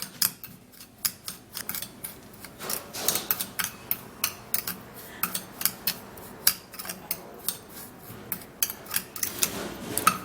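Sugar and garlic are mixed together in a bowl for a homemade foot scrub, producing a quick run of rhythmic scraping clicks, close and crisp, with no talking.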